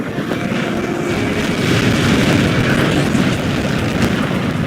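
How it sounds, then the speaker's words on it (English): A Helios projectile impact in the Ace Combat 7 flight game lands as a sustained, loud, broadband explosion roar that fills the whole moment without letting up. "How many got caught in that explosion?"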